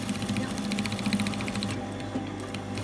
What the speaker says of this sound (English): Stitching around. Just top stitching the collar.